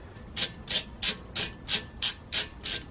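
Ratchet tightening a T30 bolt on a rear brake caliper of a 2003-or-later Saab 9-3, eight crisp, evenly spaced clicking strokes, close and fairly quiet, with no other sound.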